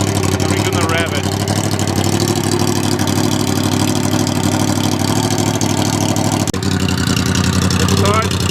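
Yamaha R1 crossplane motorcycle engine running with no exhaust fitted, a loud, steady, raw idle that drones close and unbroken, with a brief dip near the end and voices faintly under it.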